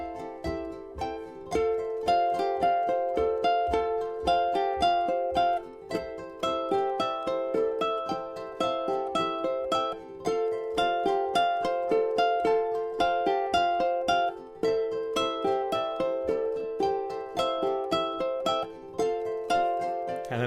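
A ukulele played with a steady three-finger picking pattern, bright plucked notes in a quick, even, continuous rhythm over a repeating chord progression, close and clear with no talking.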